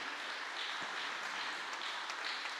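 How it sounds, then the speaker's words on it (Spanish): A church congregation claps in a steady, even wash of applause, moderately loud and continuous, with no clear voices over it. "Den un aplauso al Señor por eso"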